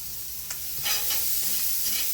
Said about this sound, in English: we're gonna put the corn in the pan and your chopped shrimp. And a touch more oil.